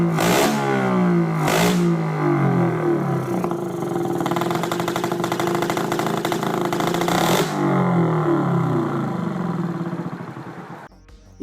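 A two-stroke split-single engine with two pistons sharing one combustion chamber runs and revs, giving a steady, buzzing single-cylinder throb with a couple of sharper bursts before it winds down and cuts off.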